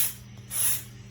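Spray paint hissing from an aerosol can onto a car, a steady close hiss that swells in the middle and holds for about a second, with no talking.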